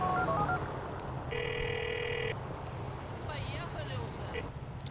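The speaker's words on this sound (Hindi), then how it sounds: "भाई को फिर फोन करता हूं" Phone ringing during a call in the GTA 4 game: one clear electronic ring burst followed by fainter trilling tones over a low background hum.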